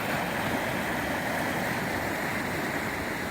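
Broad, steady rush of fast floodwater pouring through a Missouri channel, loud and continuous with a churning eddy and no voices.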